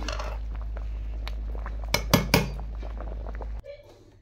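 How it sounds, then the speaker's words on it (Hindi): Boiled rice for chicken biryani strained from a pot in a home kitchen, with a steady rush of draining water and a few sharp metallic clanks of the pot and utensils before the pouring stops abruptly. "चावलों को छान लिया"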